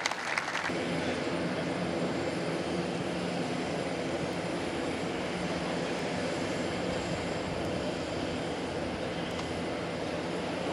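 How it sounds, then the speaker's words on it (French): A Dassault Falcon 8X business jet flies a demonstration pass at the Paris Le Bourget air show, its engine roar loud and steady throughout with a broad wash of noise and no talk. "Ladies and gentlemen, the Falcon 8X."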